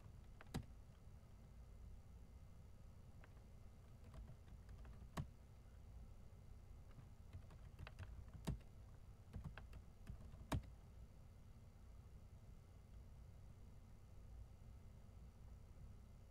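A password is typed on a computer keyboard as sparse, quiet key clicks, single taps and short clusters, spread unevenly over a soft steady hum with no talking.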